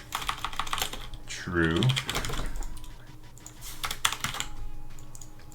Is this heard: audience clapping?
no